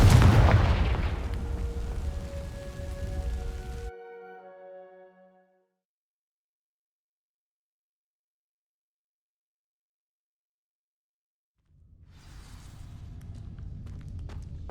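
A Confringo fire spell bursts against dry vines in Hogwarts Legacy: a loud booming blast with crackling tonal ringing that fades out over several seconds, then near-silence before a low rumbling ambience returns.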